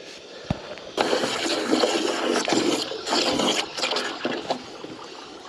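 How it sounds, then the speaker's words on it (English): Flood water drains through a partly clogged pipe on a ranch, giving a steady rushing, gurgling wash that swells and dips for several seconds, with a faint knock near the start and no talking. "I see some draining going on"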